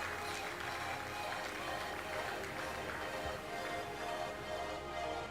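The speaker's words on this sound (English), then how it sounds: "Mr. Jimmy Shaw, the President of HRAWI, with a huge round of applause." Steady, fairly faint applause from a seated audience at a regional hotel and restaurant association convention, a dense continuous patter of many hands with no pauses.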